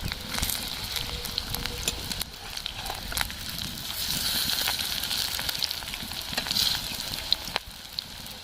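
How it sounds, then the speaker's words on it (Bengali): Rohu fish koftas fry in hot oil for a Bengali kofta dish, giving a steady close sizzle with scattered crackles and pops that swell slightly midway. No one speaks. "লাল লাল করে এপিড ওপিড উল্টে পাল্টে ভেজে নেব"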